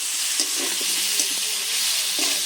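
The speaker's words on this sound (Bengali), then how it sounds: "লঙ্কার গুঁড়োটা দিয়ে একটু নেড়ে চেড়ে কষে নিয়েছি" Chili powder sizzles steadily in a hot pan as it is stir-fried, a close, even hiss with a few soft scraping stirs and no talking.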